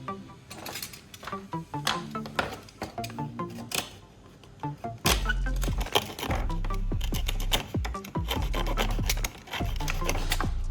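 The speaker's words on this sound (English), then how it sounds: "I'll trim off any excess foam, carefully shaping it so the repaired area looks neat" Excess foam on a repaired frame is trimmed and shaped, giving close scraping, rasping and cutting strokes in irregular bursts, growing louder and denser partway through.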